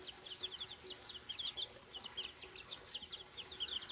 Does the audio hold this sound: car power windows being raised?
no